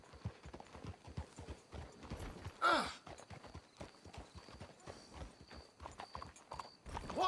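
Horses walking with steady clip-clop hooves in the video game Red Dead Redemption 2, soft and moderately close, with one brief whinny partway through.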